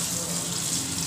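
Water from a tap runs steadily over pieces of cut red pumpkin held in a sieve, making a loud, continuous splashing gush.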